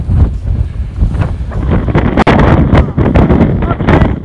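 Strong wind gusts buffet the microphone on an Appalachian Trail mountain path, a loud continuous roar with rumbling surges and a faint voice briefly in the mix.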